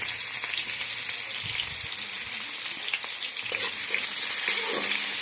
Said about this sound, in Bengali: তেলটা গরম হয়ে গেলে এর মধ্যে একটু কুচনো পেঁয়াজগুলো দিয়ে দেবে।